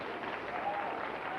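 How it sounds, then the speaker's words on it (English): A studio audience claps and cheers in a steady, dense burst of applause throughout, fairly close and even in level. "Can we please have a nice round of applause for the finest informant ever on this show?"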